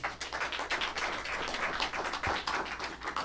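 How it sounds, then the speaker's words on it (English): An audience gives a guest speaker a dense, steady round of applause, with many hands clapping at once throughout and no break. "So a nice round of applause, please,"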